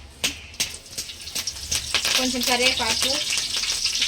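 Cumin seeds and curry leaves sizzle loudly in hot oil for fried rice. A few sharp crackles come first, then a steady, hissing fry takes over while a voice briefly murmurs over it.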